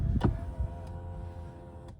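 A Lexus power window rolls up in a brief electric motor whir inside the car, ending with a soft thunk as the glass seats.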